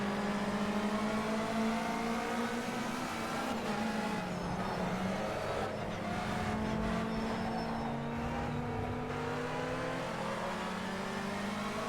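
A race car engine in the Project Cars 2 racing game drones and revs steadily, with rising and falling pitch sweeps through gear changes, loud and continuous for the whole stretch.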